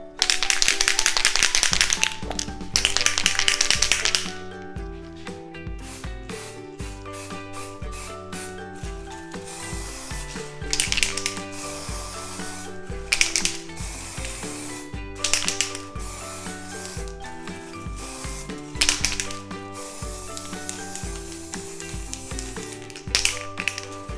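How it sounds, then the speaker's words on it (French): A white velvet spray can is shaken and sprayed from about 20 cm onto strawberry-vanilla entremets, giving bursts of hissing spray and rattling between passes. Steady tonal music plays underneath. "On agite la bombe, on la place à environ 20 cm de nos entremets et on floque."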